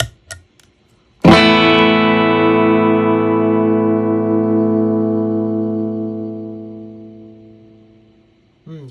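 Electric guitar chord played through a software noise gate, a few muted clicks and then one sustained distorted chord ringing out and slowly fading before being cut off abruptly near the end, loud and alone.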